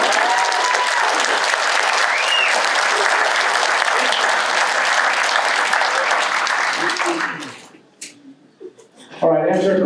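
An audience at a chamber of commerce awards ceremony in Wisconsin claps loudly and steadily for several seconds. The applause then fades to scattered sounds, and a voice begins at the end.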